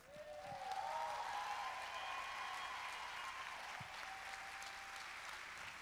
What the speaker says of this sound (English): Please give a warm applause to Erica Jackson and Melissa Ecker.